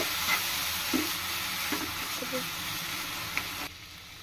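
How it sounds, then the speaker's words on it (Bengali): Liquid milk is stirred into fried lachha semai in a pan, a soft sizzle and the scrape of a spoon running steadily before cutting off near the end. "এখন আমি এর ভিতরে লিকুইড দুধটা দিয়ে দিব দিয়ে একটু মিশিয়ে নিব"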